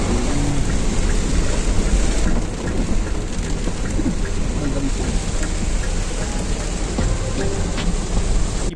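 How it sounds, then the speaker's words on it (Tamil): Heavy rain pours steadily in Chooralmala, Wayanad, a dense continuous wash of noise with low rumbling underneath, loud and unbroken throughout. "இங்க எந்த அளவுக்கு பயங்கரமான மழை வந்திருக்குன்னு"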